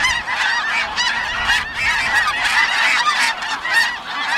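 A flock of geese honking continuously, many overlapping calls at once, fairly close and loud, with no talking, at a pond in Bosque del Apache National Wildlife Refuge.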